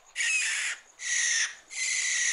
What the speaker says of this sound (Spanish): Es la lechuza.